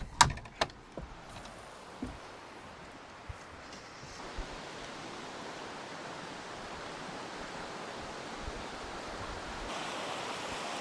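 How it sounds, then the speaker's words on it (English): Creek water flows steadily outdoors, a broad, constant rushing wash that builds after a few sharp knocks and handling bumps at the start. "Let's go check out the creek."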